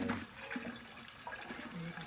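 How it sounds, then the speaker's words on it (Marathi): Borewell water pours into a storage tank in a steady, faint rushing wash, with quiet voices in the background. "इथं आम्ही बोरिंगचं पाणी या टाकीत सोडलंय"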